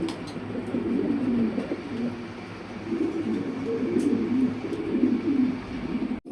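Pigeons on a farm in Bangladesh, kept with Lahore and King breeds, coo in low, continuous rolling murmurs close by, with faint background noise and no talk.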